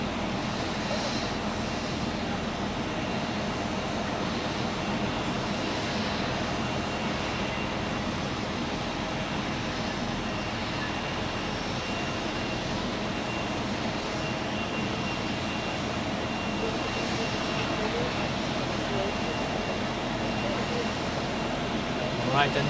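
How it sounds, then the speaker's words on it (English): An aircraft lands on runway 14 at Zurich Airport, its jet roar steady, broad and fairly loud throughout, with a continuous engine rumble and no pauses. "one more landing on runway 14"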